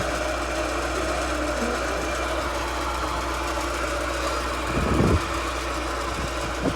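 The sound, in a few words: car engine running with bearing noise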